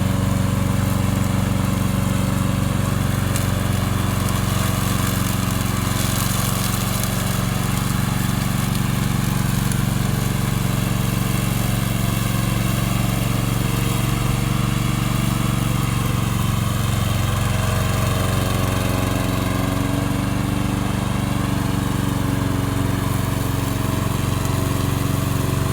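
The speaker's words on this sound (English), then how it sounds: "Today I'm going to introduce our remote control lawnmower." A remote-controlled robot lawn mower built for hills runs steadily and close, its loud continuous motor drone holding an even pitch throughout with no voices.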